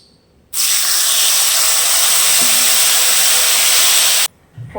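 A mint mixture hits hot oil with popped mustard seeds for mint pickle, setting off a loud, sudden steady sizzling hiss that holds for about four seconds, then cuts off.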